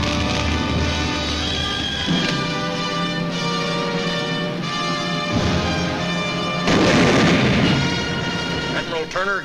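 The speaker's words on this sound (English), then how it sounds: "The mortar barrage searches out hidden machine gun nests." A mortar barrage in 1945 Iwo Jima war footage: dense, continuous rumbling bursts and booms layered over a steady mechanical drone, loud and sustained with a heavier swell near the end.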